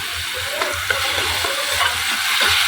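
Red chili powder is stirred into a sizzling frying-pan mixture for baingan bharta. A spoon scrapes in a steady rhythm over a constant close hiss of frying.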